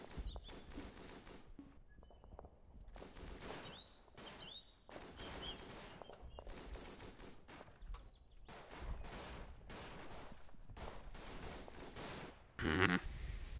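Gunfire in the Verdun World War I shooter game: repeated rifle and machine-gun bursts in irregular volleys, some close and sharp, others distant, continuous for the whole stretch with no speech.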